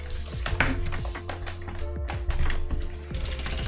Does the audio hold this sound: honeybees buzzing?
no